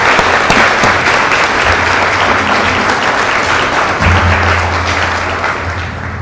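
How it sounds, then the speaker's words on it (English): Sustained audience applause at an army ceremony, a dense, loud burst of clapping from a large crowd that continues evenly for several seconds and slowly tapers. "Can we please give them all another round of applause?"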